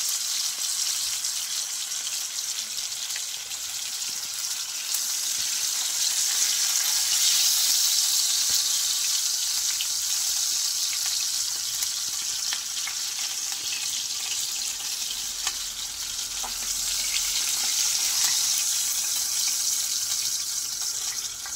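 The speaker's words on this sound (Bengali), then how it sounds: "বাকি মাছগুলো আমি এভাবে ভেজে নেব" Fish frying in hot oil, a steady bright hiss and sizzle running continuously, close and fairly loud, with no voices.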